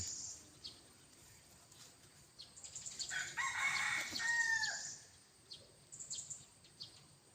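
A crossbred gamecock rooster crows once in the distance over faint outdoor background noise, with a few soft bird chirps around it.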